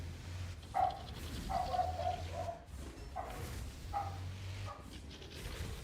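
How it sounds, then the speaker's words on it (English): A dog barks repeatedly in short bursts, somewhat distant and muffled indoors, with gaps between the barks and a low steady hum underneath. "I apologize for my dog going absolutely insane right now."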